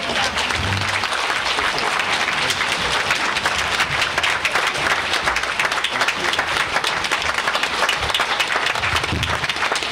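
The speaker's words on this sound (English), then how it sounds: "Now, I appreciate the applause." An audience at a Reagan Day Dinner in Marion County applauds with steady, dense clapping that fills the room continuously and evenly for about ten seconds.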